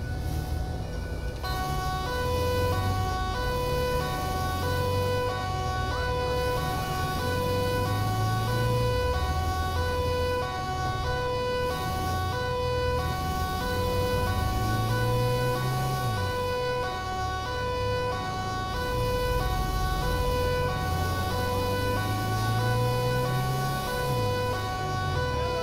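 An Audi police car with a siren approaches in the GTA 5 video game. A continuous wailing siren rises and falls over a steady road and engine rumble, loud and unbroken throughout with no talk.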